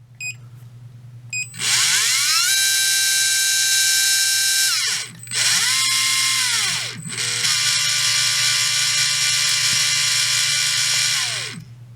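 An RC brushless motor (Surpass, Trinity or Fantom) runs with no load, spinning up to a loud, steady high-pitched electric whine, dipping and revving again twice, then winding down while a low hum continues.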